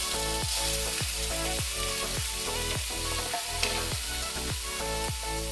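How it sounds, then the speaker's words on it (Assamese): Small fish fry in mustard oil in a wok, giving a loud, continuous sizzle with a steady hiss and repeated stirring scrapes at a regular rhythm. "তাত মই সৰু মাছকেইটা দি দিছোঁ"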